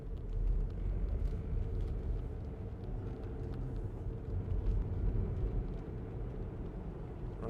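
A 2016 Range Rover Evoque 2.0 TD4 HSE Dynamic automatic 4WD drives along a bumpy country road, heard from inside as a steady low rumble of engine and tyres with faint knocks, and no talking.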